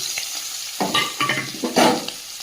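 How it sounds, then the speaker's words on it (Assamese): Pork frying in oil in a pan with onions just added, loud close sizzling that swells in bursts as the pan is stirred, with no voices. "এতিয়া দিলোঁ পিঁয়াজ।"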